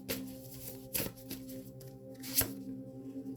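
Tarot cards being shuffled by hand, soft riffling with a few sharp slaps and flicks at irregular intervals over a low background hum, close and fairly quiet.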